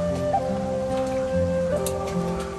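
Heavy rain pours down steadily in the Genting Highlands of Malaysia, a constant wash of patter with scattered louder drips, layered over faint tonal background music and no talking.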